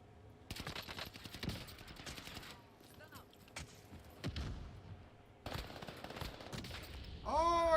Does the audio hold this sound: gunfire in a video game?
yes